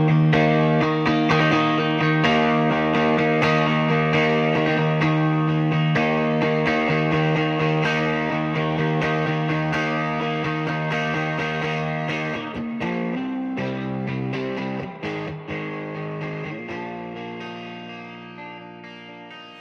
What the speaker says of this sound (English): All right, Frank, I was able to tweak your Princeton Reverb for more headroom